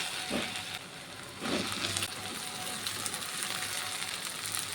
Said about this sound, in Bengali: এখন ভেজে রাখা ভেন্ডি আর আলুটাকে দিয়ে দেবো